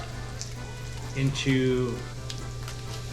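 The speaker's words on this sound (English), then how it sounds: "the bacon is still frying up" Bacon sizzles and crackles steadily in a pan, with a brief spoken word partway through over the continuous frying hiss.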